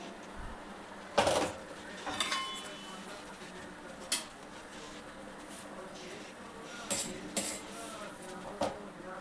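Rice being added into a pot for egg biryani, with a few scattered clinks and scraping knocks of a utensil against the pot, close but fairly quiet over a low background hum.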